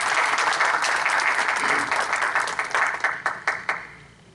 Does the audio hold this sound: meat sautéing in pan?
no